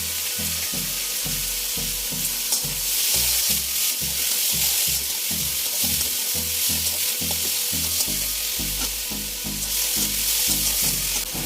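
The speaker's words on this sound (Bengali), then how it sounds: "মশলা দিয়ে আমি ভালো করে ভেজে নেব।" Spices fry in a pan for a lentil fritter dish, a bright steady sizzle over a rapid regular knocking of stirring strokes, close and continuous without speech.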